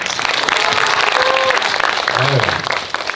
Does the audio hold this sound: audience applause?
yes